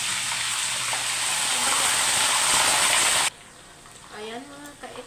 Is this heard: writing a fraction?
no